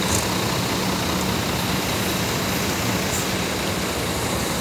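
A Putra Pelangi passenger bus idling at a busy Aceh bus stop: a loud, steady, close engine rumble with broadband road noise that does not let up, and no talking.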